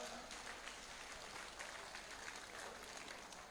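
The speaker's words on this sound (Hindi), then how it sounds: "आप बजाओ ताली" An audience at a state party training camp claps hands in a dense, even burst of applause, heard faintly and held steady for a few seconds.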